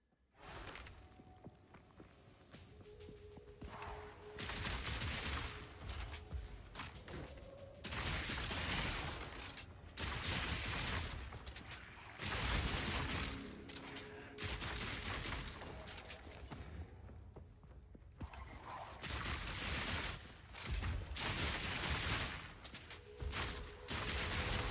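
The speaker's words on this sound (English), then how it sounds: "these mortars were not messing around" Repeated mortar fire in the video game Path of Exile 2, a run of loud, broad booming and crashing bursts that come in dense clusters with brief quieter gaps between them.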